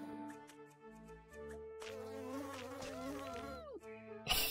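Small green flies buzz faintly near a spider web, a thin droning whine that rises and wavers in pitch and keeps going steadily, with no talking.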